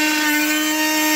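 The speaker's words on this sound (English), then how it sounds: "Here we have the Diablo carbide versus the oak wood." A Diablo carbide multitool blade cutting oak wood, a brief steady high-pitched oscillating buzz heard close and alone.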